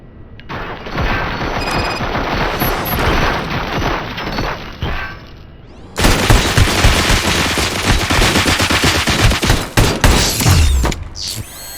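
Sustained automatic gunfire in RoboCop Rogue City, a first-person shooter: a loud, dense, continuous barrage of rapid shots with mechanical clatter, briefly pausing around midway before an even louder stretch of firing.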